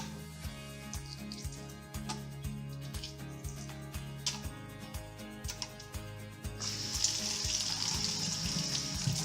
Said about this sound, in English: You want to rinse it good, making sure all the egg shell is off.